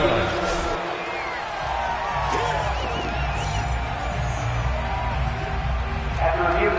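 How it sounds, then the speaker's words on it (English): A football stadium crowd at a Browns game keeps up a loud, continuous roar of shouts and cheers, with a voice talking over it throughout. "Plenty of shouts from this crowd as they watch the replay."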